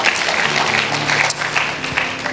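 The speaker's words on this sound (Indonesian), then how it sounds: "Beri tepuk tangan buat Tuhan Yesus." A church congregation at a GSJS service applauds with continuous, fairly loud clapping that holds steady for a couple of seconds.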